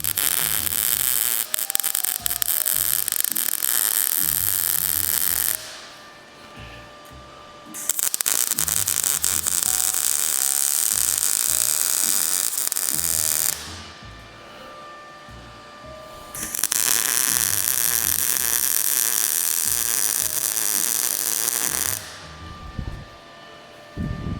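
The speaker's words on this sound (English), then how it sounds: "So now just to make things a little easier on us, I'm just gonna weld it like this." Aluminum being welded in long continuous bursts of steady hiss and crackle, three main runs separated by short quiet pauses, loud and close with no talk.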